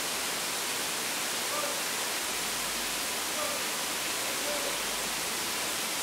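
Kantalampo waterfall in Bali rushes with a steady, hissing broadband roar. The water noise stays constant and fills the whole scene without a break.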